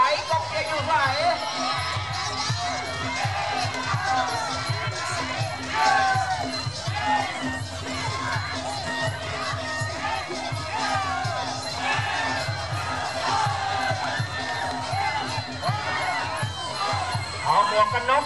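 A crowd at a Muay Thai boxing match cheers and shouts in waves throughout, a loud, busy mass of voices and whoops with an announcer talking over it.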